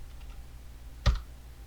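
A single computer keyboard key press in After Effects, one sharp click standing out near the middle against a quiet, faintly humming room.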